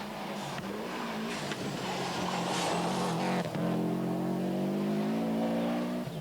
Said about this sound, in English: he's throwing his mobile Toughmac Impreza into these stages with gay abandon